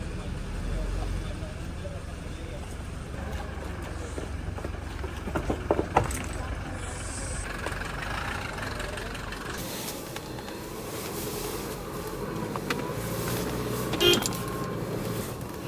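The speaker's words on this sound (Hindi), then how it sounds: "तो ये हमारी जिमनी निकलते हुए" A Suzuki Jimny setting off on a road trip in Spiti, India, its engine and road noise a steady, low drone throughout, with a few clicks and knocks and people talking over it.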